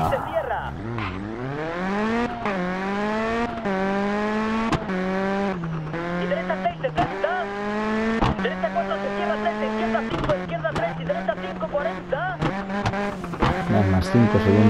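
Rally car in the Sebastien Loeb Rally Evo video game revs hard through repeated gear changes, engine pitch rising and dropping in a steady rhythm, with brief tire skids and someone talking over it.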